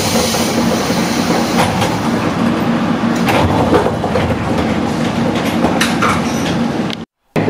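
A decades-old former national railway electric train runs on the rails near Uji, about to cross the Uji River, a loud continuous rolling roar and hiss heard from on board with clattering wheel beats throughout.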